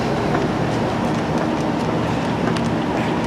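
A train bound for Carmarthen rolls along with a steady, loud rumble and faint rhythmic clatter of wheels, heard from inside the carriage with no voices.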